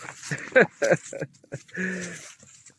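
A young female dog and an older male van dog play-fight on a floor, giving short, close whimpering yelps followed by a longer drawn-out whine, mixed with scuffling.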